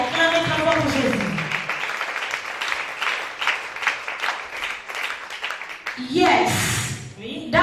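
A church congregation applauds for Jesus, a dense, sustained wash of clapping mixed with cheering voices that fills most of the stretch, with a preacher's voice speaking at the start and end.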